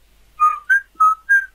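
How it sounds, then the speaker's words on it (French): A person whistles four short notes in a quick up-and-down pattern, clear and close against near silence. "Pourquoi tu siffles? Ça fait pas beau aux oreilles."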